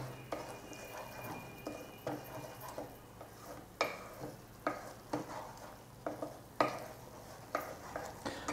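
Spiced paste for Bengali lau kofta curry sizzles in hot oil while a spoon stirs and scrapes the pan, with a steady frying hiss under repeated sharp metallic taps at an uneven rhythm.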